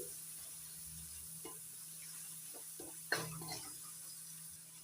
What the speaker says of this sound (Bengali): বাটা লঙ্কা বাটাটা আদা রসুন আর পেঁয়াজের সঙ্গে ভালো করে নাড়িয়ে নিচ্ছি